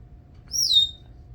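A pet parrot gives one short, rising-then-falling whistled bird call instead of barking, clear but modest in level over a faint low hum.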